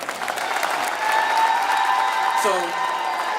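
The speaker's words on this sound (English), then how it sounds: "Let's give that a round of applause." Applause rises from a crowd at Hartsfield-Jackson airport's centennial kickoff celebration, honoring the first airmail flight's landing, steady clapping under a faint tonal hum, with a brief gliding tone near the end.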